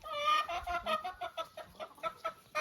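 Hens in a backyard poultry flock cluck in a steady run of short, close bursts, fairly loud, with no voices over them.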